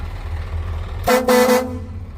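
An Isuzu 190 truck's horn blasts twice in quick succession, loud and close, over a low idling engine rumble.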